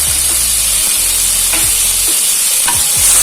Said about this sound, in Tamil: ஒரு ரெண்டு நிமிஷம் வதக்கி விட்டுக்கலாம்